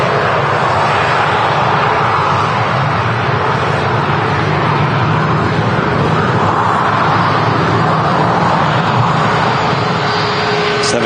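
A Ryanair Boeing 737 MAX 200 arriving from Milan roars steadily as it lands at Manchester Airport, a loud, continuous broadband jet rumble that holds throughout, with no talk.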